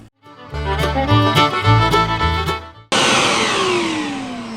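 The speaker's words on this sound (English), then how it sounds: "So a little vacuum cleaner's coming in handy." Small vacuum cleaner drawing up debris while a wooden farm sign is being routed, a steady close whine that cuts off abruptly and is followed by a sharp high rush with a falling tone.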